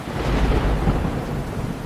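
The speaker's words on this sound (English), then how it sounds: "Thunder rolled across the river." Thunder rolls across a river during a storm, a deep, loud continuous rumble with rain hissing steadily beneath it, no voices.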